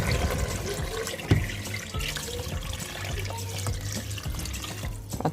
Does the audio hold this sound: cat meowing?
no